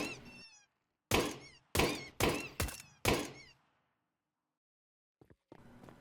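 Hollow rubbery thunks as a custom inflatable toy is kicked around inside a Source 2 game, five quick bouncy impacts in a row followed by a pause and a couple of faint knocks.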